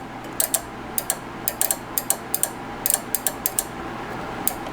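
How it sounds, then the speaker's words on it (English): A small relay inside a Rotel RB-1092 power amplifier clicks as it is energized and de-energized: a quick series of sharp, faint mechanical ticks in uneven bursts over a quiet hiss. "I'm going to take the relay, energize and de-energize."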